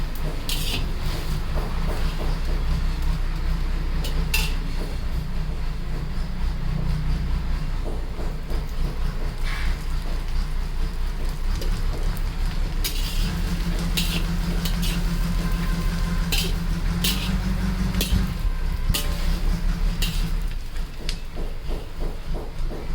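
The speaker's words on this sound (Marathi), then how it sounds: "असं पुरेपूर तेलात कांदा भाजून घ्यायचा मित्रांनो." Sliced onion roasting in a generous amount of oil, giving a steady, loud hiss and crackle that runs unbroken for the whole stretch, with a few sharper clinks over it.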